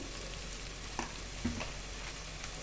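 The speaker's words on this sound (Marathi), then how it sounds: "आलं लसूण पेस्ट चांगली भाजलेली आहे आपली इथं त्याच्यामध्ये लाल तिखट घालून घेते" Ginger-garlic paste and red chili powder fry in a pan for pav bhaji, giving a soft, steady sizzle with a few faint stirring clicks and no talking.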